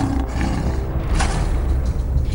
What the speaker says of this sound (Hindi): इनकी दहाड़ से पूरा जंगल गूंजता है।